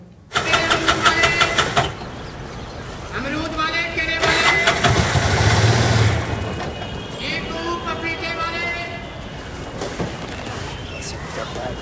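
A car engine cranks in quick pulses, catches and settles into a steady running hum, with people talking around it.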